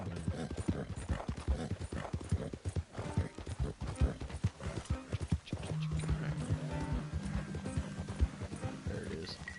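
A horse's hooves clip-clop in a fast, continuous rhythm while galloping in the video game Red Dead Online, with a neigh partway through, all under a player's talk.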